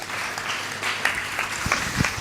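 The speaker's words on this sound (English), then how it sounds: "let's appreciate him with a big clap" An audience at an International Missing Children's Day event claps in a loose, moderate round of applause, fairly close, with a few sharper individual claps standing out.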